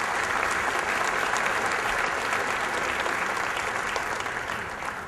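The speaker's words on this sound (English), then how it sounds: "so give yourselves a round of applause" An audience applauds at a city's 2013 State of the City address, a dense steady roar of clapping filling the hall for about five seconds, tapering slightly at the end.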